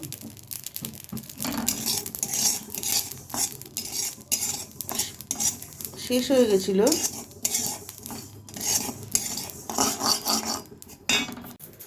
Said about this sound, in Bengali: তো এখানে জোয়ানটা ভাজা বসিয়েছি